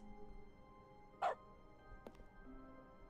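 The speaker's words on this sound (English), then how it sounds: "clicking makes doggy noises now!" A single short dog bark sounds in The Stanley Parable video game when clicking in its dog mode, followed a little later by a faint click over a quiet, steady game background.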